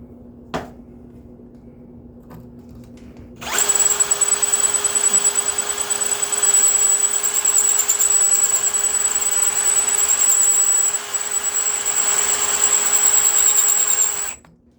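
A hand-held power drill starts after a few quiet seconds and runs steadily at high speed for about eleven seconds, drilling a part for a Redmax GZ7100 chainsaw, loud and close, with a sustained whining pitch.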